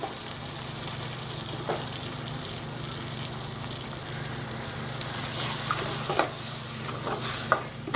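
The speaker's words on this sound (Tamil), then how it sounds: "இப்போ மசாலா நல்லா கொதிச்சிருச்சு" Masala sauce for a roasted-ground-masala chicken roast simmers while being stirred in a pan, giving a steady soft sizzle and bubbling with a few scraping stir strokes, close and moderately loud with no talk.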